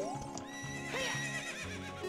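Epona, the horse in the video game Zelda: Ocarina of Time, gives a bright whinny over steady rhythmic hoof clip-clops, clear and close with game music in the background.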